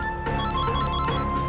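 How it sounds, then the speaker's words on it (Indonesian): A telephone rings indoors in a steady electronic tone with sustained harmonic notes over low room noise, continuing through the moment without any voices. "teleponmu berbunyi terus dari tadi."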